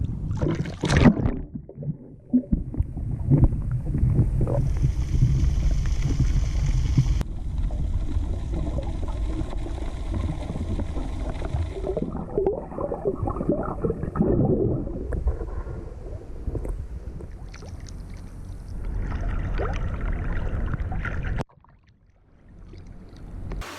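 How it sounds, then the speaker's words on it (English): Small boat being paddled in to a beach, with continuous splashing, water churn and wind rumble close by, changing texture through the clip before a brief quiet drop near the end. "we just paddled in to the beach"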